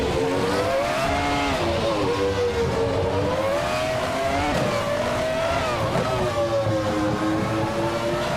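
Race cars roar off at the start of a race at the Denver Pepsi Center, the lead car a 1996 McLaren A411, with engines revving loudly and continuously and pitches rising and falling as they accelerate.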